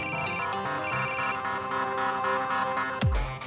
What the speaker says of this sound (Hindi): क्या मेरा फोन उठा लिया, वरना फिर से करना पड़ता